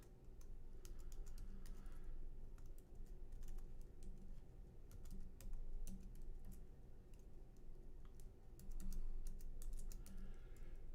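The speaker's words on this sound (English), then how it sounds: "Let me just type this in real quick and make sure you guys don't see it." Close, quiet typing on a computer keyboard, with a steady stream of soft key taps and occasional bursts over a low room hum and no voices.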